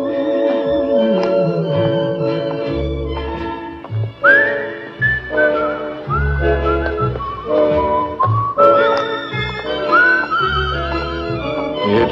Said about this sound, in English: It's a whistling tune